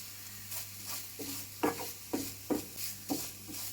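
Coconut and onion sautéing in a pan for a bitter gourd masala curry, with a soft steady sizzle and regular scraping stirs of a spoon at an even rhythm, close and fairly quiet.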